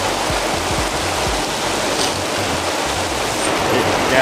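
Heavy rain and hail pound a car during a storm on the road to Stillwater, a loud, dense, continuous roar of drumming with scattered sharper impacts throughout.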